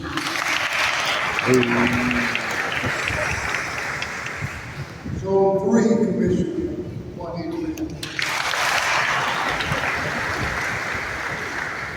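An outdoor crowd applauds at the ribbon cutting for the new Fire Station #1 in Daytona Beach, Florida, with steady clapping as county commissioners are introduced and someone speaks over it on a PA.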